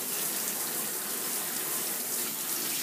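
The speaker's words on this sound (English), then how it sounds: "Some more hot water." Hot water gushes steadily from a tap into a bathtub being filled for a dog's bath, a loud, close, continuous rushing with no voices over it.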